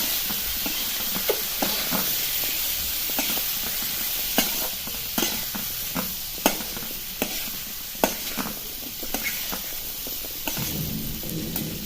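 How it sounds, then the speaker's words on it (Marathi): A spoon stirs potatoes through spice powder in a sizzling pan while making potato rassa bhaji, with a steady hiss of frying under regular scraping knocks every second or so. "हा मसाला पूर्ण बटाट्यांना कोट होईल अशा पद्धतीने हलवून घ्यायचं"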